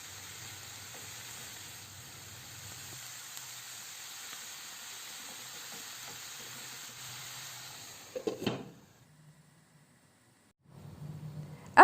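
Grated beets with ketchup and a little water cook covered in a pan, giving off a steady soft hiss and sizzle. A brief clatter follows, then near silence before the sizzle starts again.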